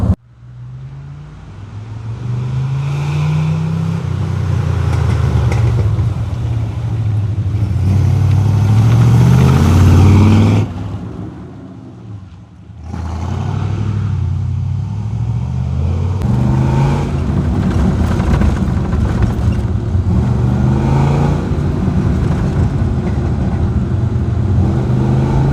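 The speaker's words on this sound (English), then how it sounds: "Let me switch off the engine for a minute." A Corvette C3 convertible's engine runs close by, revving and climbing to a loud peak, dropping away briefly, then settling into a steady, rumbling run with small throttle blips.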